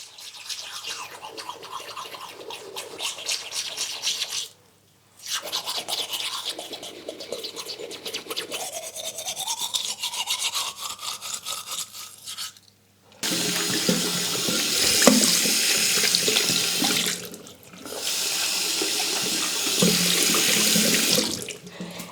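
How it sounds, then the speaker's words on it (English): A toothbrush scrubs teeth with a steady scratchy brushing sound, then warm water runs loudly from a tap as the toothbrush is rinsed under it, with brief pauses in the flow, close by and with no talking. "you wash the toothbrush with warm water"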